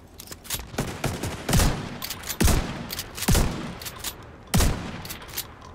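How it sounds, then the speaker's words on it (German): Gunfire in the video game The Division 2 comes as loud sharp shots and short bursts, some in quick runs and others spaced apart, with heavy booming reports and no talk over them. "Du kannst aufhören zu schießen."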